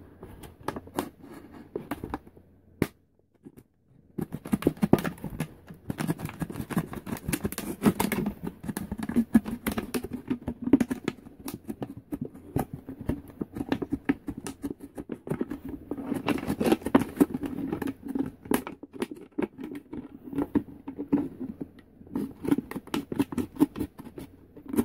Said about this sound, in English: here's the soda bottle, and using a box cutter, what we're trying to do, it's cut this bottle right here